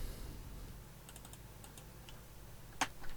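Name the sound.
typing tempo on computer keyboard in Cubase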